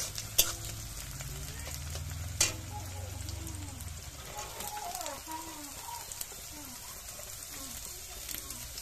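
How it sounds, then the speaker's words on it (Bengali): Small fish are mixed in a pan over a soft, continuous sizzle, with a few sharp knocks against the pan and light scraping as they are turned. "তারপরে এটাকে মেখে নেব, মাছগুলোকে ভালো করে।"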